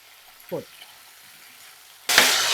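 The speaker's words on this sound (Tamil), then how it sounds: "இன்றைக்கி சட்டி காஞ்சிருச்சு நம்ம கத்திரிக்காயை போட்டுக்கிட்டே பேசுவோம் இது வதங்கும் போதே இதோட நம்ம கொஞ்சம் உப்பு சேர்த்துடணும்" Eggplant pieces hit a hot, dry pan and burst into a sudden, loud, steady sizzle after a mostly quiet moment with one brief soft sound.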